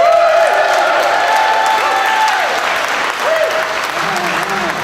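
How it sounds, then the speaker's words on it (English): Audience at a Corvette giveaway award ceremony applauding armed forces members, dense continuous clapping with a few cheers and sustained tones mixed in, fading slightly toward the end. "Let's give our heroes a round of applause."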